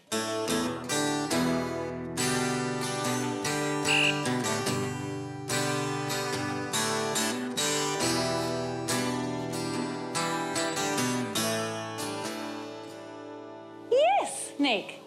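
A guitar riff plays on a rock music quiz show, a run of clear, sustained plucked notes and chords. It continues steadily, and a brief voice cuts in near the end.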